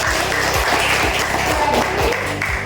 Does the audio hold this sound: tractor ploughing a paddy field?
no